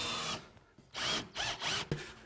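A power drill drives hidden screws through a wall panel set against a breakfront, giving a whirring burst, a pause, then three more short whirs ending in a sharp knock, close by and without talk.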